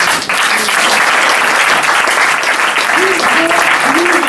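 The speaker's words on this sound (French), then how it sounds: "on peut les applaudir bien fort." A live show audience bursts into loud, dense applause that holds steady throughout, with a few cheers and whoops rising near the end.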